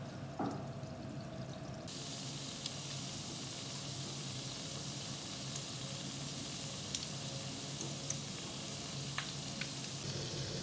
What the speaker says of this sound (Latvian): Karstā eļļā cepšu.